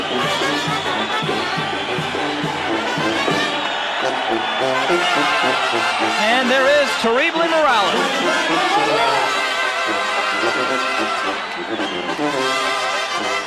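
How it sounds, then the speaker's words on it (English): A boxing arena crowd rouses before a bout, loud babble and cheering blended with pumping music, continuous throughout, with a commentator talking over it. "This is a way a crowd gets real started up like this"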